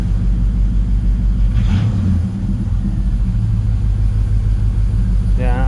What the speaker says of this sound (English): I still love the sound of this truck.